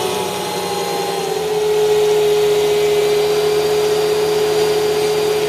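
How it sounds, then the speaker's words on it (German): Mercedes S500 engine idling smoothly with no stutter, a steady close hum with strong tonal harmonics that rises slightly in level after the first two seconds, heard alone. "man hört die Leerlaufdrehzahl, er läuft gleichmäßig von der Drehzahl"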